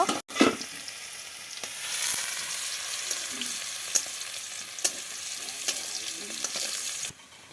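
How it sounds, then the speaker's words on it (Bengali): Dried chilies and garlic frying in hot oil for a mango pickle give a steady, close, crackling sizzle, broken by a few sharp clicks of a utensil stirring in the pan. "এবার গরম তেলে শুকনো মরিচ দিয়ে দিল।"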